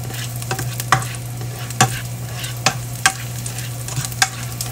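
Garlic and other ingredients for laing, a Philippine dish, sizzle steadily as they brown in a pan. A spatula scrapes and clacks against the pan roughly every second, close and clear, with no talking.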